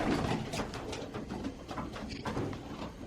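Pigeons coo softly and repeatedly while feeding after a three-hour flight, layered low cooing calls with light pecking and shuffling, moderately near and fairly quiet.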